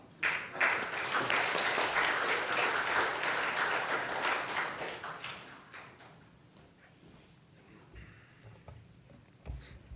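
Congregation applause during a Sunday morning service at a Korean church, loud dense clapping for about five seconds before thinning out into scattered claps and quiet room noise.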